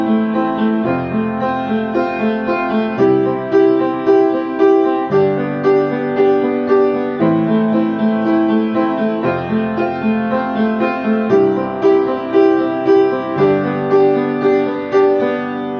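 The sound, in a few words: piano chord progression with fifths in left hand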